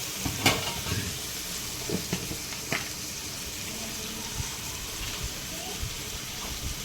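Two tomatoes with a spoonful of salt sizzle and soften in a pan while being cooked down for an egg curry, a steady low frying hiss broken by a few brief stirring scrapes.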